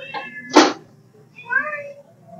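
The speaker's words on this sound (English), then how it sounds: "Here we have the third cat." A shy rescue cat at a Toronto cat shelter gives two short meows, a brief one and then a longer rising-falling cry after a sharp burst, close and clear with no talk.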